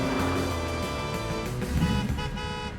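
A car horn sounds in city traffic, a sustained, fairly loud tonal honk held over a low rumble of road noise and engines.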